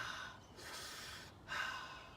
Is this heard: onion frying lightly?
no